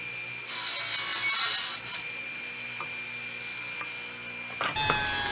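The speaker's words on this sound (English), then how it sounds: "I got my crosscut sled and I cut them down to rough length" A table saw with a crosscut sled cuts purple heart boards to rough length, a single sustained whining cut lasting about a second over a steady motor hum, then a second cut starting near the end.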